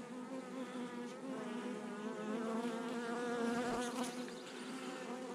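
A honeybee colony hums inside an opened hive late in the day, a close, soft, continuous buzzing drone with individual bees wavering in pitch.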